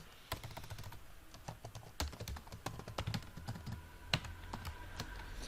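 Keystrokes on a computer keyboard while HTML button code is typed into an editor, an irregular run of quiet, close clicks and taps with short pauses, no voice.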